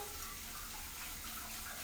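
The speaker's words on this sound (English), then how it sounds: "I'm going to keep going with that rinsing" Tap water runs steadily into a bowl or sink while quinoa seeds are rinsed, a continuous, even splashing rush with no talking.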